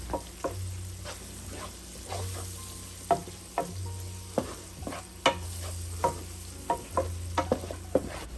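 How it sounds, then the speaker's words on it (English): Chicken gizzards and spices fry in a pot with a steady low sizzle, broken by a regular series of sharp scraping and knocking stir strokes from a utensil against the pot, close and fairly loud. "just stir these to combine and allow this fry for about 2 to 3 minutes"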